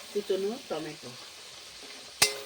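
Chopped tomato for a cauliflower and potato dalna goes into hot oil, giving a steady low sizzle beneath a brief stretch of talking, followed by a single sharp clatter near the end.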